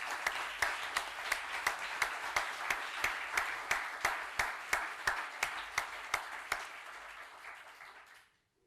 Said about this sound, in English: join me in giving them a big round of applause for their support